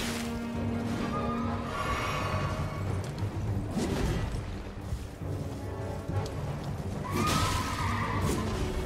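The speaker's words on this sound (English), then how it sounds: "I feel like we're just hitting his horse." Horse neighs in the Elden Ring video game amid combat effects, a couple of whinnying bursts near the start and again toward the end over a busy, noisy game soundscape.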